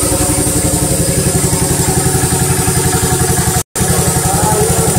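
A motorcycle engine idles close by with a fast, even, throbbing beat and a mechanical clatter, steady throughout apart from a brief dropout.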